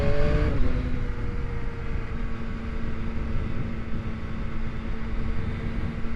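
A 2021 Yamaha MT-09 motorcycle engine drones steadily while cruising on a winding road, a low continuous hum with faint wind noise, its pitch dropping slightly early on before holding even.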